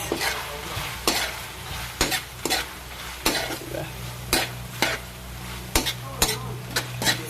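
Sliced hotdog sautéing in a pan with garlic, onion and corned beef, a steady sizzle broken by repeated sharp scrapes and clacks of a spatula stirring against the pan, about a dozen strokes, no talking.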